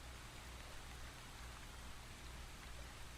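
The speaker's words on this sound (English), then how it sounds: "the rain starts to move away." Steady, even rain hiss fills a tabletop fantasy game's background ambience, a continuous soft wash with no breaks and no voices.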